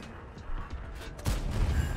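A tank gun fires a heavy shot in a tank battle video game, a single loud boom that breaks in over a quieter engine and battlefield rumble and then rolls on.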